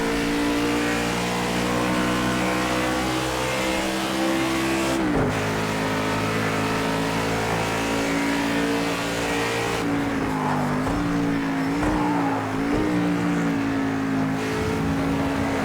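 A race car lapping in Project CARS 2, with a loud, sustained engine drone that holds steady pitch, then drops and rises in brief shifts and revving as the car brakes and accelerates through corners.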